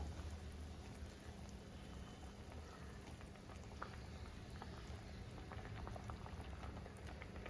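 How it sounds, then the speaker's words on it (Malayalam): Kerala-style mackerel fish curry boiling in a pot: a soft, steady bubbling and popping that stays faint and even for the whole stretch, with no voices. "നമ്മുടെ കറി നന്നായിട്ട് തിളച്ച് വന്നിട്ടുണ്ട്"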